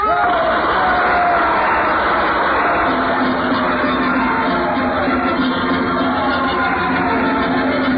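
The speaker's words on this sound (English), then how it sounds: "You heard them cheering just now" A crowd cheers and shouts in a radio drama, a dense roar of many voices holding steady and loud throughout, with a few sustained tones riding above the din.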